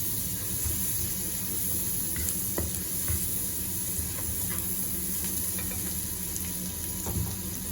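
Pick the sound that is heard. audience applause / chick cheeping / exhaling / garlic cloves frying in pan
garlic cloves frying in pan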